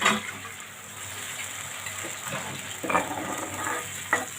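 Water is poured into fried spice masala in a cooking pan while making a puti fish dish. A steady sizzling hiss runs throughout, and brief splashing bursts rise above it near the start and toward the end.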